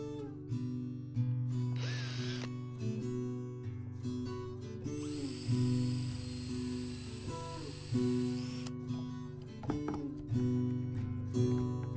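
A power drill runs in bursts, screwing a nut onto a wooden dowel while building a replica 1920s tenor harp, with steady whirring and pauses between runs.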